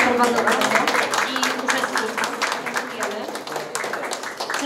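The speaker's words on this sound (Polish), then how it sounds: "Wielkie brawa dla prowadzącego i" A workshop audience gives its leader a round of applause, dense clapping that is loud and close at first and then eases off, while someone speaks over it.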